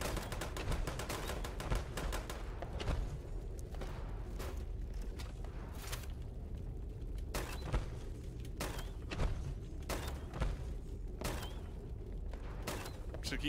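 In a multiplayer video game, a grenade launcher fires repeatedly amid other gunfire. The sharp bursts and thuds come at an irregular pace over a steady, busy background of game noise.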